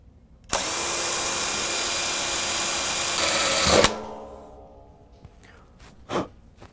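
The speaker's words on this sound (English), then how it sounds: "use the provided step bit to drill" A power drill with a step bit grinds through the steel wall of a drum smoker in one continuous loud whine lasting about three seconds, then stops abruptly, followed by faint clatter and a brief breathy sound.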